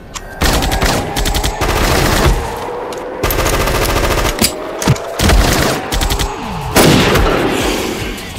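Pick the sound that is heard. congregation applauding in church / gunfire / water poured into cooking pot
gunfire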